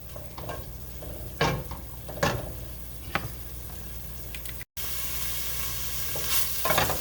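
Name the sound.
onions frying in a soup pot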